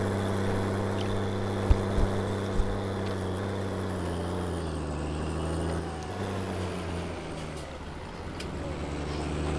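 Tractor engine in Farming Simulator 19, hauling silage flat out: a steady low droning rumble held at constant revs throughout, with two brief thumps early on and the tone dipping slightly toward the end.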